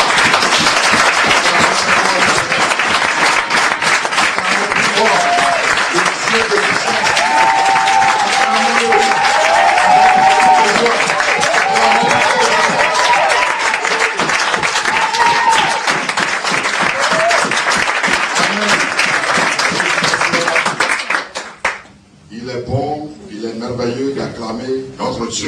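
A church congregation at a deliverance service claps and acclaims loudly, sustained applause with shouting voices for about twenty seconds before abruptly dropping away into quieter speech.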